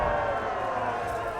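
A brief swell of crowd noise in the video game Kingdom Come: Deliverance, cheering and applause, fairly loud and continuous for a moment.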